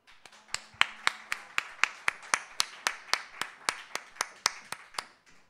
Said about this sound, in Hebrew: לא צריך כפיים כל שיר